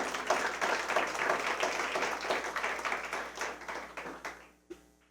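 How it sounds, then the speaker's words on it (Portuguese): A church congregation clapping for the Lord during a communion service, with a steady patter of many hands at moderate distance that fades out near the end, followed by a single faint knock. "Dê uma salva de palmas ao Senhor"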